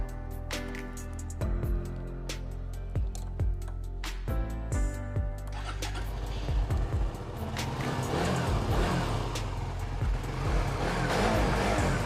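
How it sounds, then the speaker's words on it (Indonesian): A used car's engine is cranked with a few starter bursts, then catches and settles into a smooth, steady idle close by, with occasional light revs. "Dan karena new stock, kita coba nyalain mesinnya."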